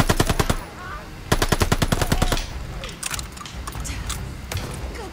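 Rapid bursts of Call of Duty Vanguard gunfire crack in quick repeated volleys, two dense strings of shots followed by scattered sharper reports, loud and close, with no one talking.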